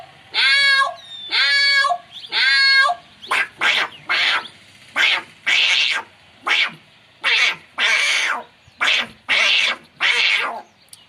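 A voice imitates a cat, starting with three drawn-out wavering meows and then breaking into a rapid series of sharp, yowling cat-fight squalls, loud and close with short gaps between bursts.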